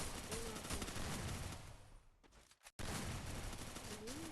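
Rapid, dense gunfire from a video game shooter rattles continuously and loudly, broken by a brief gap before the bursts resume, with a voice talking over it.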